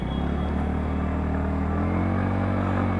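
A TVS Ntorq BS6 scooter accelerates hard from a standstill toward 60 in sport mode, its small engine droning loud and close as the pitch climbs steadily under rushing wind.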